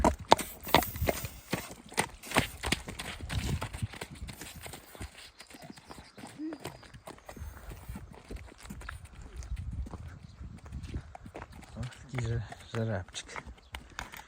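A young stallion's hooves clip-clop steadily at a walking pace, close by, with people chatting over the uneven rhythm of the steps.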